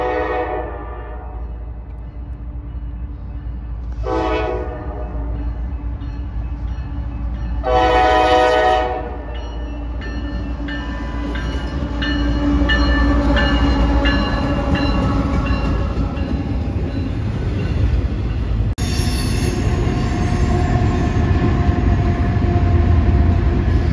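Norfolk Southern and Union Pacific freight trains roll past at close range, horn blasts sounding over the steady rumble and clatter of railcars, which grows louder through the passage.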